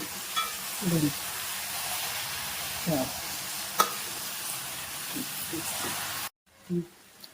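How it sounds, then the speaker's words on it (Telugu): Prawns stirred in a pan for prawn biryani, giving a steady sizzling hiss with several scraping stir strokes, then a short pause before one more stir; a voice is heard faintly at moments. "బాగా కలుపుకోవాలి."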